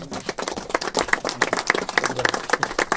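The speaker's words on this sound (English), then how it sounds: "Can we please give him a round of applause?" Crowd at a California bill signing claps for Governor Gavin Newsom, a dense, close burst of many hands beating quick, uneven strokes that stays strong throughout.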